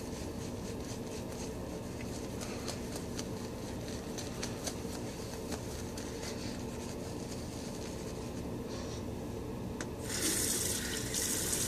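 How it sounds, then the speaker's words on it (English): Water runs steadily from a tap onto a shaving brush, a continuous hiss and splash heard up close, growing louder and brighter near the end. "adding a little water to my brush"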